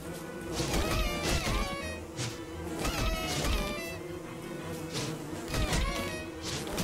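Swarming bees buzz in the survival video game Don't Starve, a busy layered insect drone joined by repeated sharp hit sounds as they attack, playing without talk.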